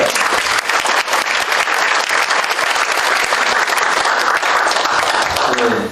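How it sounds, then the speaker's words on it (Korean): Sustained applause from an audience in a city council chamber welcoming invited guests, dense steady clapping at even loudness throughout. "이분들에게 환영의 박수 한번 보내주십시오"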